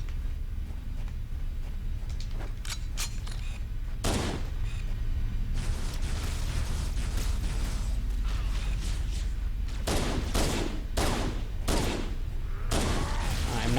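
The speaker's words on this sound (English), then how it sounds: "Trying to make headshots from far away on a moving target while I'm moving." Gunfire in the Halo: Combat Evolved game, repeated sharp shots and bursts over a constant loud background rumble of battle, with a voice talking faintly in places.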